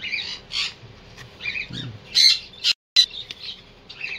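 Cockatiel parrots let out bursts of sharp squawks and chirps, several close calls spaced irregularly, with one brief low grunt and a short gap of silence partway through.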